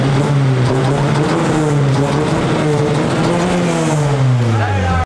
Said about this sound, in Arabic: قرروا شغلوا المحرك وتعالوا نشوف